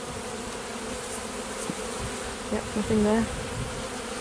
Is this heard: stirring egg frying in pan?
no